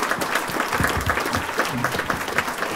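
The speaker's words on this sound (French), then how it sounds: "applaudissements pour Nicole Duclos" A stadium crowd claps steadily for Nicole Duclos at the inauguration of an athletics stadium, dense and sustained with a faint voice or two underneath.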